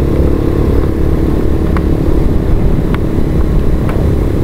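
A motorcycle engine running steadily with a newly fitted sprocket, a loud, continuous low rumble with faint clicks and ticks over it, close by and with no talk.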